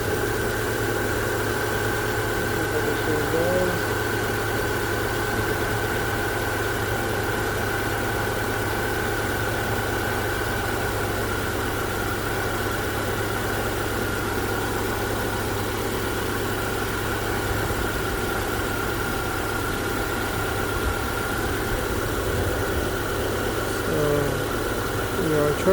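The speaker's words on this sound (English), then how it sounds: "Alright, so it's charging, it's running now." A 2010-2014 Subaru Outback engine idles steadily after an alternator replacement, a constant low hum with a faint tonal whine that runs without change for the whole stretch.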